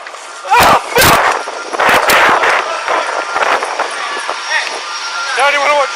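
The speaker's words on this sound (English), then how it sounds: "Shots fired!" Gunshots during a police officer-involved shooting in Appleton, Wisconsin: several loud, sharp bangs fired in quick succession, close by, mixed with shouting voices.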